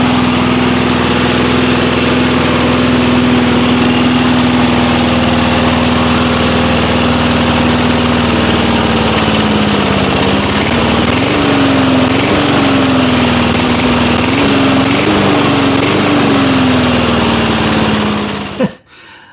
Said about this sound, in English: This little engine doesn't sound too bad from as bad as it was